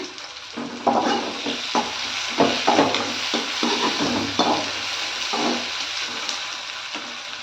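Tomatoes and onions sautéing for a dried anchovy thokku, a steady loud sizzle with repeated scraping stir strokes at a regular rhythm, close and alone.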